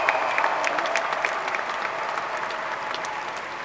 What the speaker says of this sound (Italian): Un applauso al nostro papà.